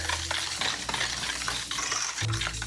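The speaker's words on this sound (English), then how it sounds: "Stir that in." A spoon stirring vanilla into a chess pie filling of sugar, juice and vinegar in a bowl, soft scraping swirls with light clinks, close and quiet, no talking.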